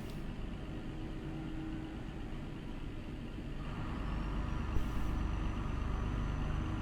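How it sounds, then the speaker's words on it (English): Turbocharged vehicle on its engine brake, a steady loud mechanical drone and road rumble that grows heavier and lower partway through, with a faint whistle above it. "Let's get on the engine brake though."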